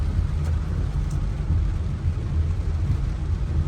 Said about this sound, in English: But look, the rain falling here.